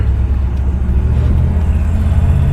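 A loud, deep rumble from a 1966 Cadillac Coupe de Ville engine accelerating, close by and steady throughout.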